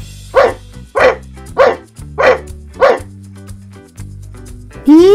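A dog barks five times in an even, steady rhythm, loud and close, over light background music, followed by a short whine at the end.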